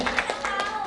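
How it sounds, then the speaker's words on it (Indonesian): Applause and clapping from a wedding crowd, a dense patter of hands lasting under a second at moderate loudness with a voice mixed in. "Oke, kita beri tepuk tangan buat Tuhan."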